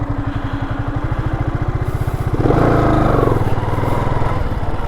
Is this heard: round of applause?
no